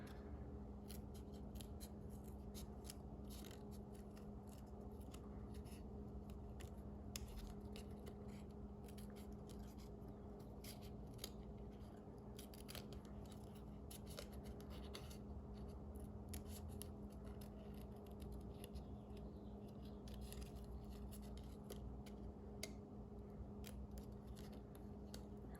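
Scissors trim a paper card for a Halloween craft overlay, a faint, continuous run of small snips and crisp paper rustling close by, with a low background hum and no talking.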